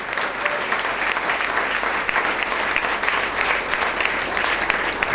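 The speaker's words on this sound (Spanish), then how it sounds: "Un aplauso fuerte a ese Dios." A church congregation applauds together in a dense, steady wash of clapping that stays strong and even for the whole stretch.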